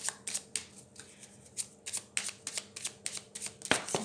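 Oracle advice cards being shuffled by hand during a spring-season reading, a run of quick crisp riffling bursts in an irregular rhythm, close and clear with no talk.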